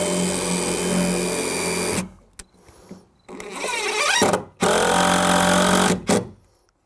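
A power drill running in reverse to burn and set a pilot hole in wood while building a shed's doors and windows: a steady motor whine that cuts off, then restarts in several uneven bursts.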